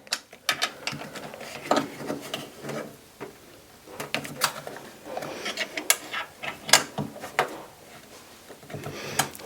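A part is screwed down by hand while assembling a Sunny Health & Fitness magnetic rowing machine, giving close, irregular ratcheting clicks, rattles and small knocks in quick bursts.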